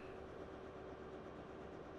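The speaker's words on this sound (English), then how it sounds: "Isn't a 380 just got like really just meh sounds in Train Simulator?" A Class 380 electric train running in Train Simulator 2021 on Scotland's Fife Circle line, a steady even rumble with a faint constant whine and no talking.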